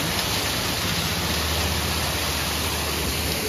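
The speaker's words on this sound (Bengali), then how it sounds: "ওই উপর থেকে ঝর্ণাটা এখান থেকে নামছে" A steady, dense rush of falling water from a hillside waterfall at Darjeeling Rock Garden, loud and continuous without pause, filling the scene from close by.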